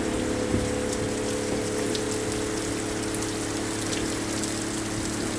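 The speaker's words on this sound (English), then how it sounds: "it's definitely got a lot of rain." Heavy rain falls outdoors during a flash flood, with fast-moving floodwater rushing in a constant, dense roar that holds steady and loud throughout, with no voices.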